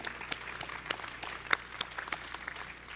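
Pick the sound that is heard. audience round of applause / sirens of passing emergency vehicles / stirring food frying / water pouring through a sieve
audience round of applause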